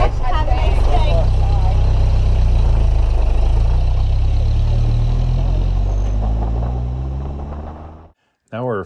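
A car rolls steadily into Grand Teton National Park, its low engine and road rumble holding loud and close, then cutting out briefly before a short burst returns at the end.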